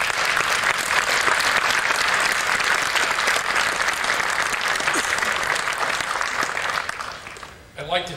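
An audience at the 1995 ACME convention applauds a Mortal Kombat game presentation, with dense, sustained clapping that stays loud and even before thinning out and fading near the end, while a voice speaks over it.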